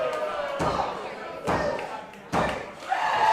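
A wrestler crashes onto the ring mat from a Ghost Rider slam during a women's bout, heavy booming thuds repeating amid loud crowd noise and a commentator talking over it.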